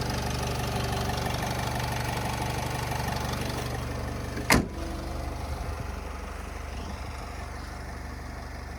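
A 2014 Nissan Primastar 2.0 diesel cargo van idles steadily with a low, even engine hum close by, broken once midway by a brief sharp knock or thump before the smooth idle carries on.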